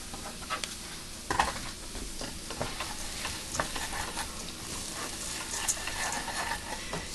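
Dried fruit being stirred into rice pilaf in a pan, with soft scraping and light pattering clicks of a spoon over a faint steady sizzle, fairly quiet and close.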